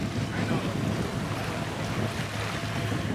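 A sailing boat out on the sea on a luxury trip off Mexico, with a steady broadband wash of water and wind rushing past the microphone, close and continuous throughout.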